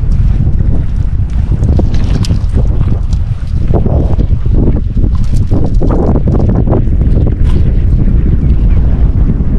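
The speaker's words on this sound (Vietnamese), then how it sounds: "Gió quá gió." Strong wind roars continuously across the microphone aboard a small fishing boat on a cold day near the Cambodian border, loud and steady with gusty buffeting and no talk.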